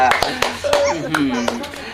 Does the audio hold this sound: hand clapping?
yes